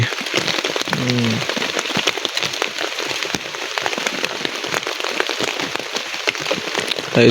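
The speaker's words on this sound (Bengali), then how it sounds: "অনেক বেশি পরিমাণ বৃষ্টি হচ্ছে" Heavy rain pours onto a tent at a winter campsite, a dense, steady patter of drops close overhead. A brief voice is heard early on.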